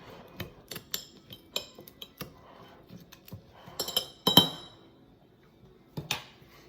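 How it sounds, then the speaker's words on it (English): A spoon muddling cocktail ingredients in a glass, a string of sharp irregular clinks and taps up close, bunched into a busier flurry partway through. "Don't have a proper bar set, so I'm gonna muddle here with my spoon."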